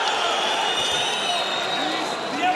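A boxing arena crowd roaring and cheering in a continuous loud wash, with a commentator talking over it throughout.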